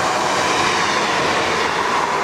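A Class 153 diesel train, unit 153.357, rushes past close by at Swinderby, filling the scene with a loud, steady roar of wheels and rail noise.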